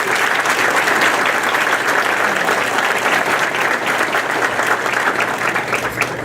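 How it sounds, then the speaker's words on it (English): An audience at a vocational school's outstanding student banquet gives loud, sustained applause for three student musical performers, steady clapping from a full room with a faint crowd murmur beneath. "We can give them a nice round of applause."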